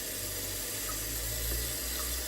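Water runs steadily from a kitchen faucet into a Hamilton Beach 1.7 liter electric tea kettle, a continuous close rushing fill with no talking.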